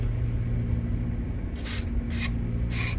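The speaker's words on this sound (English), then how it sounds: "I'm going to spray some WD-40 in there." Three short bursts of WD-40 aerosol spray hiss over a steady low engine-like rumble, each lasting about a quarter second with brief gaps between.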